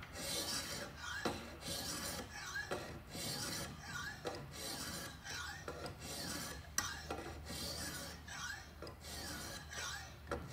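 EzeSharp blade sharpener with a wedge attachment filing a blade, a steady series of rasping strokes repeating about every second, close and fairly loud, with no talk.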